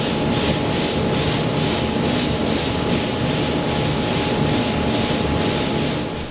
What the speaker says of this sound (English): I'm painting all the hard to reach areas first, in all the spokes and behind